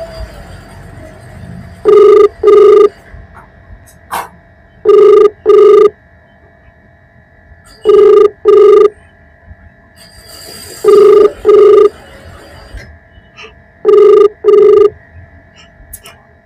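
A telephone rings during an unanswered call, a steady ringback tone in paired double bursts repeating about every three seconds, clear and prominent over a faint background hum.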